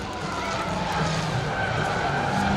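A race car engine roars steadily at close range at Saratoga Speedway, holding a constant high-revving drone with a faint tire-skid hiss throughout.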